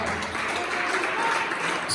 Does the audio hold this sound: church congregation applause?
yes